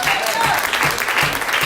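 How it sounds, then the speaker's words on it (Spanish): A church congregation claps during a Spanish-language service, a short burst of dense applause with a voice mixed in beneath it. "Denle el aplauso al Señor"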